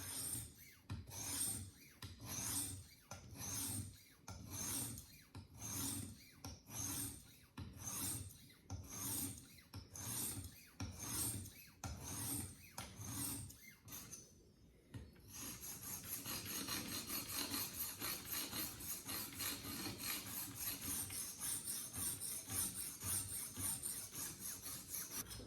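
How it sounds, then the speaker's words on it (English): A knife is sharpened on a 400 grit diamond stone: close, even rasping strokes repeat about twice a second, then shift to a continuous, faster gritty scrubbing. "I'm ready to sharpen. So I'm using a 400 diamond grit stone here"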